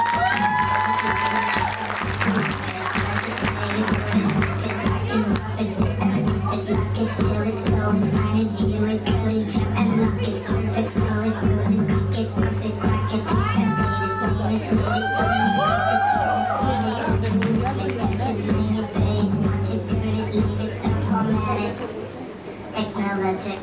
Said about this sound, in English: Don't forget to cheer and clap for the wonderful performance you received today.